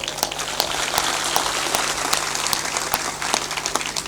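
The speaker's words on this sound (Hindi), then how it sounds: "थोड़ा जोर शोर से ताली बजाया करो।" An audience at a satsang in Bhatpur, Hardoi, Uttar Pradesh, applauds loudly and steadily, a dense wash of many hands clapping throughout.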